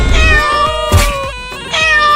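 A kitten meows in a few high, wavering cries across about two seconds, close and fairly loud, with a couple of short breaks between calls.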